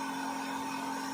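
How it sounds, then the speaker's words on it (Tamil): Phone skin cutting machine slicing a sticker to shape, a steady whirring motor drone with a strong constant hum, close and continuous with no voices. "ஸ்கின் கட்டிங் மிஷின் அது பார்த்தீங்கன்னா நம்மளுக்கு அதே மாதிரியே பார்த்தீங்கன்னா ஷேஃபில் கட் பண்ண ஆரம்பிச்சிருச்சுங்க"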